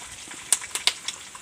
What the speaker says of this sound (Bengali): এই দেখো আমি আবারও কিন্তু তেল ঢালছি।